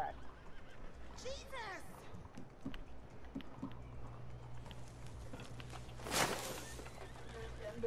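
Horse neighing and hooves clopping in Red Dead Redemption 2, with a whinny early on and rough game ambience; a man exclaims briefly.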